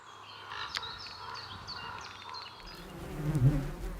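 Bees buzz around hives at a Romanian bear sanctuary, several insects droning and passing close by in overlapping whines, with a louder rumble rising near the end.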